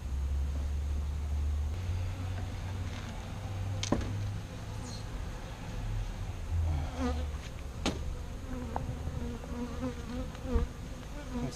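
Agitated honey bees swarm around an opened hive during a brood box inspection, producing a dense, continuous buzzing drone with a low hum beneath and a few sharp clicks from handling the hive.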